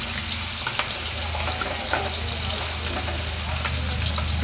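Onion shallow-frying in a pan until slightly brown crackles and sizzles steadily and continuously, with small pops and a faint low hum underneath.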